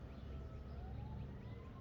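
Emergency vehicle sirens wailing outside a house, faint and distant, with rising tones drifting over a low background rumble and no voices.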